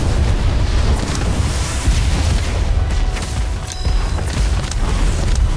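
Incendio fire spell cast in Harry Potter: Magic Awakened, a loud, dense whooshing roar of flame that fills the whole moment without letting up, with booming low rumble underneath.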